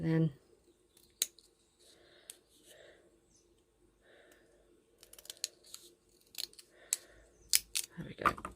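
Scissors snip through a paper specimen card in a handful of sharp, close cuts with short pauses between them, alongside a few soft handling sounds and a brief spoken word.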